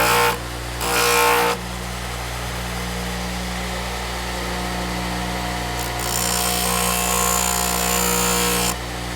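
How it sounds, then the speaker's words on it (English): A buffing wheel loaded with black compound, used for stropping edge tools, hums steadily, with two louder stretches of harsh, broadband whirring as work meets the wheel. "we're going to just put the compound on the bottom of the wheel"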